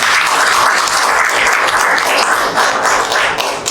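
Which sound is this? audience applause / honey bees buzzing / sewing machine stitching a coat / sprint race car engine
audience applause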